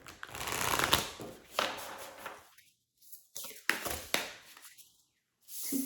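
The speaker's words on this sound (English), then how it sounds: "I want to give them the cards a better shuffle" Tarot cards shuffled in repeated riffling bursts, crisp and close, with short quiet gaps between handfuls.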